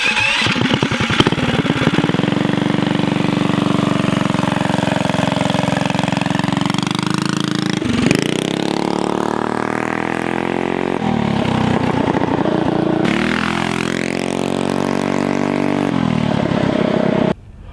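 A minibike fitted with a Juggernaut torque converter is ridden hard. Its small engine is loud and close, revving up and down in long rising and falling sweeps with brief throttle drops between pulls.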